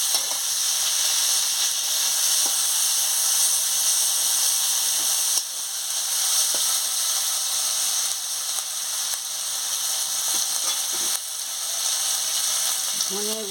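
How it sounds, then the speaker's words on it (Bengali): Chopped tomato and green chili frying in a pan for papaya ghonto, a loud steady hiss and sizzle throughout with small clicks and a few soft knocks. "টমাটম কুচি দিয়ে দিচ্ছি, কাঁচা লঙ্কা দিয়ে দিচ্ছি।"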